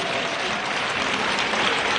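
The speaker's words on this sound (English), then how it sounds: "please give her another round of applause" Audience applause fills a dinner hall at an awards banquet, a dense, steady wash of many hands clapping together at full strength throughout, with no voices rising above it.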